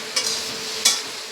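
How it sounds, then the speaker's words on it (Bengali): Mixed vegetables for a Bengali panchmishali curry sauté in a little oil over low heat, a soft steady sizzle broken by two sharp scraping stirs, with no talk. "সবজিগুলো একটু লো আঁচে কষিয়ে নেবেন"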